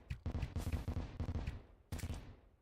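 Rapid bursts of exploding Hellfire arrows in the video game Terraria crackle in a dense, loud volley, followed after a brief gap by another explosive flurry.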